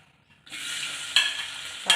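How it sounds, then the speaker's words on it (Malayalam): Sliced onions drop into hot oil left from frying chicken for a homestyle chicken curry. After a brief quiet moment a sharp, close sizzle bursts up and keeps crackling steadily, with two louder spikes as the onions are stirred. "ചിക്കൻ വറുത്ത എണ്ണ അതിലേക്ക് ഒഴിച്ചു കൊടുത്തിട്ടുണ്ട് കേട്ടോ ഇനി നമുക്ക് ഈ സവാള ഇതിൻ്റെ അകത്തേക്ക്"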